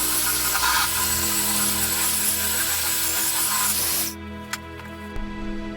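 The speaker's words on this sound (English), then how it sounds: "has a coarse 50 grit sanding belt that will aggressively shape the wood" A loud, steady abrasive roar of a belt sander with a coarse 50-grit belt grinding a wooden board runs for about four seconds, then cuts off, leaving a quieter hum with a couple of small knocks.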